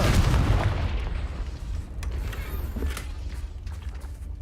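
A Confringo spell explodes in a Harry Potter video game, a loud booming blast that fades into a rumbling tail with faint scattered pops.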